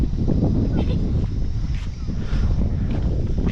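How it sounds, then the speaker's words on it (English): Strong wind roars steadily across the microphone at a mountain-top lookout near Brisbane, a dense, constant rush with voices mixed in. "Windy."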